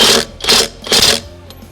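A cheap impact gun tightens a nut in three loud, close bursts of rapid hammering, each lasting about a quarter second with brief pauses between, then a faint final tap.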